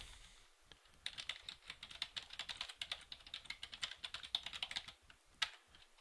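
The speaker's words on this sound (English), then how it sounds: "I'm going to type in my Pubster website." Steady typing on a computer keyboard while entering a Pubster website address in a sign-up form, a close run of quick, irregular key clicks and taps with brief pauses, no talking.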